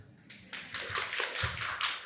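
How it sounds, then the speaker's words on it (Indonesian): Group of people applauding after a morning prayer gathering, a brief round of hand clapping that builds in over the first half second and stays moderately loud, with faint low murmur beneath. "Tepuk tangan buat semua."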